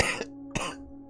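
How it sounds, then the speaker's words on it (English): A strong, harsh cough rings out alone, two sharp bursts about half a second apart with a faint background tone lingering. "a pathetically strong cough."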